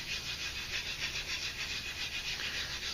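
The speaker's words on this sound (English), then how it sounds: "you actually can hear the scraping, the scratching sound" A linen French polishing pad charged with shellac and abrasive rubs across a wooden surface, giving a steady, close, rhythmic scratchy swishing with even back-and-forth strokes throughout.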